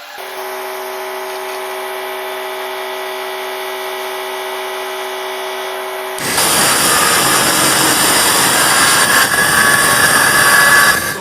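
A power tool cutting a panel for a van build: a steady high whine runs for about six seconds, then a louder, rougher cutting roar takes over to the end, up close, with no talking.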